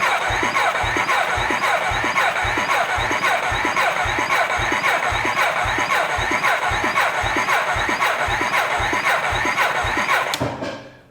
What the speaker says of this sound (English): Once we put a little bit of load onto this motor, it definitely does not have the power to turn it over.